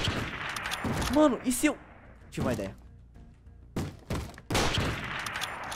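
Gunfire rings out in the Minecraft series The Walking Craft: several short, sharp shot bursts scattered between and under someone speaking Portuguese in the foreground.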